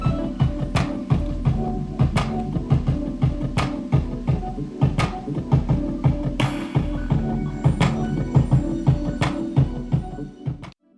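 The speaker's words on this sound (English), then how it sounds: "Here's a frozen track of one of the synthesizers I used on this particular instrumental." A frozen synthesizer track from a hip-hop instrumental beat plays alone: a steady, loud electronic line with a rhythmic pulse and sharp repeated attacks over sustained low tones, ending abruptly.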